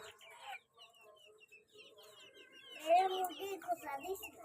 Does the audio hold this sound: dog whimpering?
no